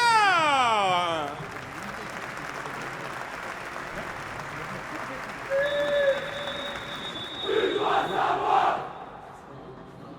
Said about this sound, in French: j'aimerais un tonnerre d'applaudissements, mesdames, messieurs, pour les jaunes et bleus, le FC